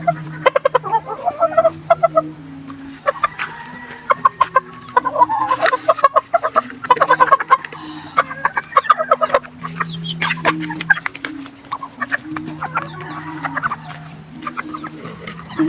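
Roosters and hens cluck and chatter close by in scattered bursts, with low murmurs and soft rustling between calls.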